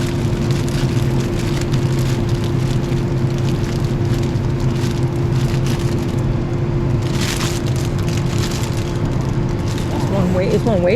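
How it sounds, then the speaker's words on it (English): Rain falls steadily in the woods at a camping site, a dense, even patter that continues throughout while people talk in the background. "It's raining"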